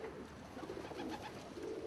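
Ice pigeons, both clean-legged and muffed varieties, coo softly at moderate distance, a steady run of low, rolling throaty calls over a faint background hum with no talking.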